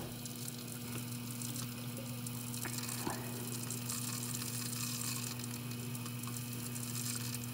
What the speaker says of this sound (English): That is water going in my dishwasher.